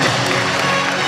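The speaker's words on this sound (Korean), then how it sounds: "박수 부탁드리겠습니다" A brief, loud burst of dense applause from an audience honouring an elementary-school award winner at a slow food youth forum, steady broadband clapping with no pauses.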